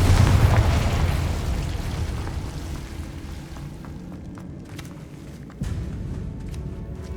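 Spell explosions from Confringo and Bombarda in the video game Hogwarts Legacy, a loud booming burst at the start decaying into rumble, then a second sharp blast near the end.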